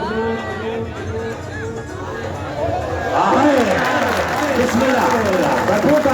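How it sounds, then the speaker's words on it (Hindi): Crowd at a tape ball cricket match cheering and clapping, under loud, excited voices and chatter that swell in the second half. "बिस्मिल्लाह तालियां बनती है भरपूर तालियां बजा दे"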